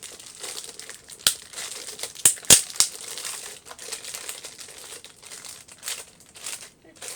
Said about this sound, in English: I'm going to take the plastic off before I